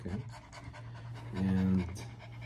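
A dog pants rapidly and rhythmically up close, with a brief voiced whine-like tone midway, while a person speaks.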